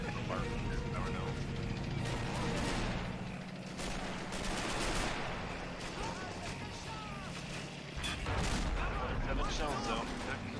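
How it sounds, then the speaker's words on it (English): Artillery shells bursting in the World War II strategy game Men of War Assault Squad 2, dense rumbling explosions and gunfire rolling continuously under a loud battle din, with several heavier blasts swelling throughout. "somebody just got a whole bunch of infantry in that artillery shell"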